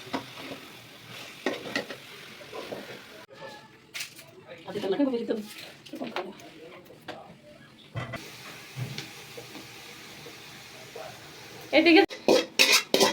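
Chopped vegetables are stirred into browned meat in a pan for fried rice, with a low sizzle, scraping and clinking of a spoon against the pan, and a voice talking over part of it.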